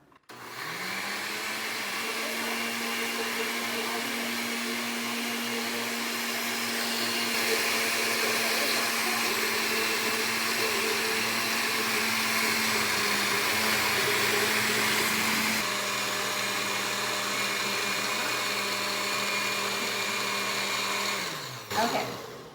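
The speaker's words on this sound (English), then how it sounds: "so we're going to start this blender, get it blended, and then we're going to add the spinach and the albahaca, or the basil" A kitchen blender runs steadily for about twenty seconds, blending a green sauce of spinach and basil; a loud, continuous motor whine holds a stable pitch, then cuts off abruptly near the end.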